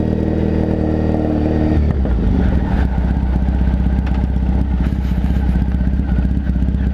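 A motorcycle engine runs loud and close, a steady heavy drone with a shift in pitch about two seconds in, then continuing with a rough, pulsing idle and some clatter.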